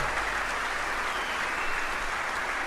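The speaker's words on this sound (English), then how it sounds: "there's a few Irishmen in the crowd who are cheering their hero home" Snooker crowd at a quarter-final applauding steadily, a dense continuous patter of clapping from the audience, moderately loud, with no talk over it.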